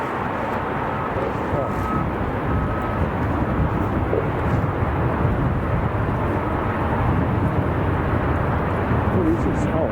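An Emirates airliner at Chicago O'Hare gives a steady, loud broadband jet-engine roar that holds constant for about ten seconds, with voices talking over it.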